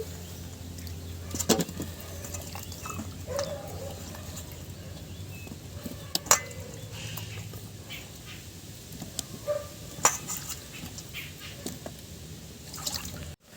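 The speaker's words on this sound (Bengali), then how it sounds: "আলুগুলো আমি ধুয়ে তুলে নেব" Potatoes are washed in water by hand, giving faint, scattered splashes and drips over a quiet room background.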